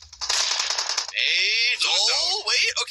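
Rapid gunfire in a PUBG Mobile tournament match, a fast crackling burst of shots followed by whistling, sweeping tones, loud and close over about three seconds.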